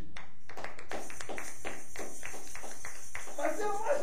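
A church congregation claps in a steady rhythm of about eight sharp strikes, moderately close, with a brief burst of louder sound at the end.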